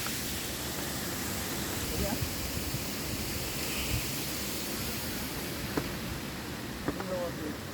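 Water surges forcefully through a dam gate, a dense, steady broadband roar that masks everything else, with only faint speech-like traces barely emerging above the torrent.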